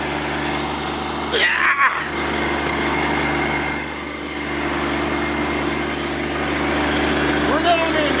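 A tractor engine runs steadily at a low idle throughout on a home vegetable-growing plot, with one brief shout partway through.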